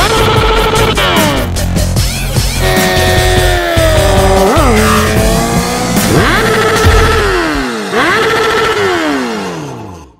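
Honda Supra 250cc motorcycle out on a test ride, its engine revving up and down through gears with rising and falling whines, loud and close throughout, with nobody talking.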